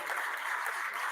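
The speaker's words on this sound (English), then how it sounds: "each language I say, you applaud and celebrate the languages one by one" A poetry event audience applauds in a continuous, even wash of clapping at moderate volume, with no break and no voices.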